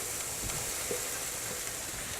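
Sloppy joe sauce going into a hot pan of softened vegetables for vegan sloppy joes, producing a steady, even sizzle and hiss, fairly close, with no voices.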